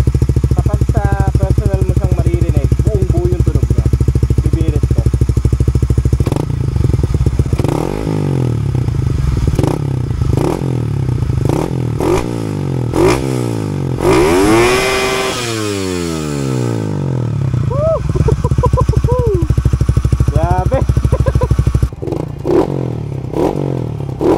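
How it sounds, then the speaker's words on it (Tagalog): A Suzuki Raider 150 Fi motorcycle with a modified stock muffler idles with a loud, raspy burble and repeatedly revs up and drops back, with one sharp, long rev in the middle, close to the bike. "sound check ng muffler na to na nakakalkal na stock muffler"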